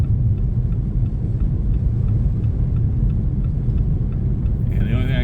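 A vehicle crawls down an unplowed, snow-covered road in a 2024 blizzard, giving a steady, loud low rumble of engine and tyres that runs the whole way, with a brief tonal sound near the end.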